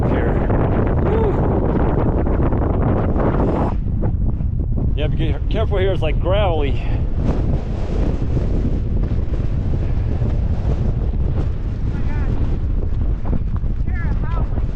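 Strong wind roars steadily across the microphone on a high mountain trail in Rocky Mountain National Park, loud and constant throughout, with people talking and calling out over it.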